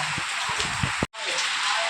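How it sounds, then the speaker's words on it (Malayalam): Steady rain pours down as a dense, even hiss that fills the moment and is broken only by a brief cut in the sound. "ഇന്ന് മഴ അങ്ങോട്ട് ഒഴിഞ്ഞു പോകണില്ല"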